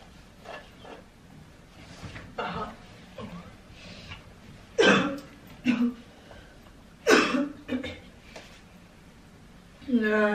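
Coughing from a person at home making a bed, several short bursts spread across the stretch, close and fairly loud, with low murmuring between them.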